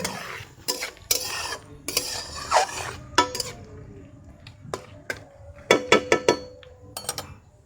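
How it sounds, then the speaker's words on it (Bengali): Washed potatoes tossed into a hot pan of tempered spices, with sharp clatters of a spatula against the pan and brief sizzling bursts in between, close up with no talk. "এই যে ধুয়ে রাখা আলুগুলো ছেড়ে দিলাম। এবার আলুগুলো ভাজা হবে।"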